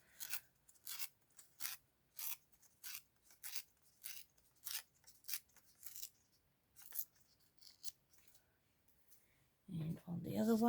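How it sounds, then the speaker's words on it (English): Sheets of card paper being ripped towards the maker in a series of short, crisp tearing bursts with pauses between, ending in a louder handling rustle. "I'm going to rip this towards me as well"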